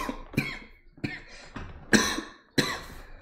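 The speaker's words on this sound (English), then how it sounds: "I'm sorry, I'm coughing" Several sharp coughs from a sick person, about five bursts spaced irregularly over a few seconds, close to the listener with no speech in between.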